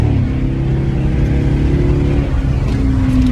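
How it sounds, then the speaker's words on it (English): Straight-piped Chrysler 300 Hemi engine rumbling and revving loudly and continuously up close, a deep throbbing exhaust note that climbs slightly in pitch near the end, with no talk over it. "Oh, Bobby gassing that bitch though, most definitely."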